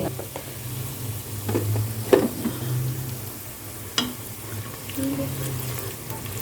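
Onion, coriander, cumin and a piece of cinnamon fry in a pan with a low, steady sizzle, punctuated by a few distinct scrapes and knocks of stirring; close and moderately quiet, with no speech.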